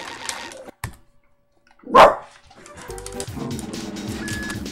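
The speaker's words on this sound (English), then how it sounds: "Why are you barking, bro?" A dog lets out a single sharp bark amid quiet room noise, followed by a steady mechanical hum and faint background sounds.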